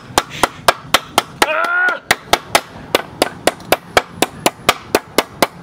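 Metal hammer blows knock the screws out of homemade giant inline skates, a steady series of about twenty sharp, loud strikes in even rhythm, with a brief voice breaking in partway through.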